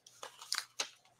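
A few quick snips of scissors cutting through Scotch tape, three or four short crisp cuts close by and fairly quiet.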